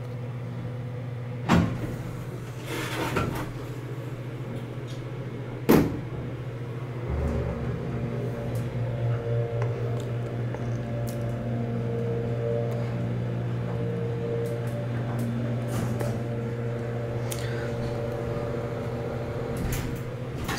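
A 1970s-era Otis Series 1 MOD hydraulic elevator riding between floors, a low steady hum with a couple of sharp clunks from the cab and doors early on, then constant motor drone throughout.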